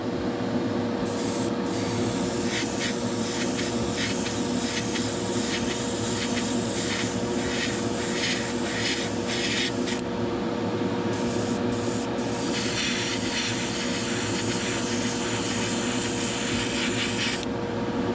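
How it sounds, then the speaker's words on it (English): Airbrush at about 28 to 30 psi laying down a paint base coat, a loud continuous hiss in long bursts with short breaks, over the steady drone of a running fan, no talking. "Just throw some paint on it."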